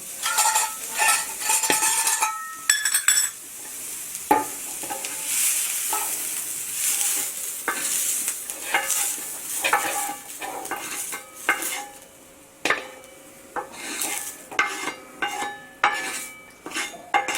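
Fried onion scooped from a pan into a vessel, with a run of metal spoon scrapes and clanks against cookware, irregular and close, over a faint sizzle in the background.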